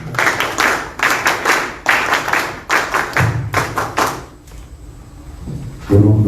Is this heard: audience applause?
yes